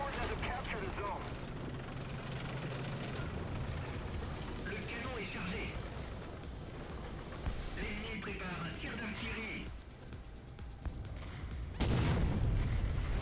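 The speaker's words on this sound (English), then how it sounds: "So artillery on us." Artillery fire in War Thunder, dense rumbling blasts and rattling bursts across the whole stretch, with a sharp, loud impact close to the end.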